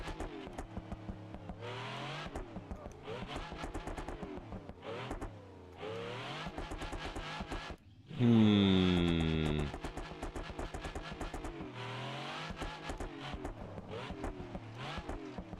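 A car in the BeamNG driving game accelerates and slides without the handbrake, with repeated engine revving and gear shifts, a short loud burst of tire squeal partway through, then more revving.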